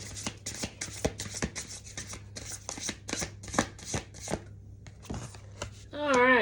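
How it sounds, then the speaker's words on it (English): Tarot cards are shuffled in quick repeated riffles, a rapid series of crisp flicking bursts close to the microphone, ending as a voice begins speaking. "Let's get one more good shuffle."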